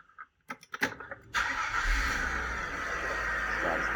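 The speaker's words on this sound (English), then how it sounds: "Starts the car." A Mercedes 124 convertible starts up: a few clicks and knocks from the key in the ignition, then the engine catches and settles into a steady, close idle.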